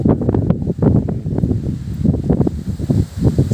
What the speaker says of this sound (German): Jetzt wird schon gescheit Wind.